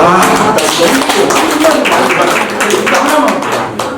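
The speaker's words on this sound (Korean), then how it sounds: "자, 박수 한번 주시죠." Audience at a tourism development workshop clapping, a loud, fairly dense burst of claps that carries on for several seconds and tapers slightly at the end, with voices mixed in.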